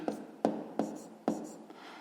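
Numbers being written by hand during a fifth-grade maths exercise, four or five short close strokes of pen or chalk in quick succession, separated by brief pauses.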